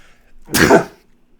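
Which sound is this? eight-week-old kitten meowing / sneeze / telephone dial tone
sneeze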